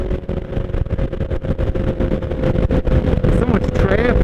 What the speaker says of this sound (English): Oh my god, it's windy today!